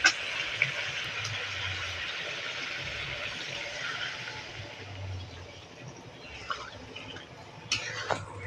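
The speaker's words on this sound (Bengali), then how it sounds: "এবারে জল দিয়ে দেবো পরিমাণ মতো" Water poured into a pot of spiced chicken being cooked down, a steady hiss and sizzle of liquid hitting the hot pan, fairly faint, tapering off with a few light clinks near the end.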